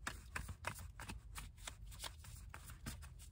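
A tarot deck is shuffled in quick riffling bursts, close and fairly quiet, with a rapid rustling rhythm and no talking.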